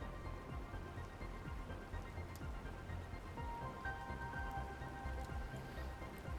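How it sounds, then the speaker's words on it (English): Steady rain falls in the survival game The Planet Crafter, a dense, even patter with faint drips, continuous and unbroken throughout with no voices over it. "Do love seeing it rain"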